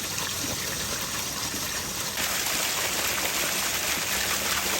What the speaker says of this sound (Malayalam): ഇവിടെയൊക്കെ പൈപ്പ് പൊട്ടി കിടക്കുന്നുണ്ട് അതിൽ വെള്ളം പോണേ